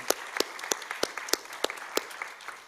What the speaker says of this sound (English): Let's give a big round of applause to your parents.